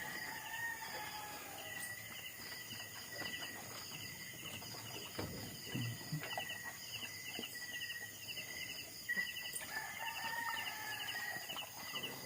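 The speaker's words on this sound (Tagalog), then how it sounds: "Gaok na ang manok." A rooster crows outdoors in the Philippine countryside, its calls fairly distant and moderately loud over steady background ambience, with occasional clucking between the crows.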